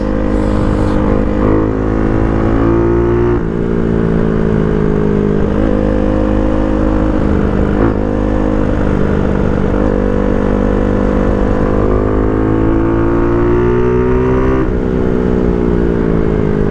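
A motorcycle engine drones steadily at close range, its pitch rising and falling gently as it rides along without pause.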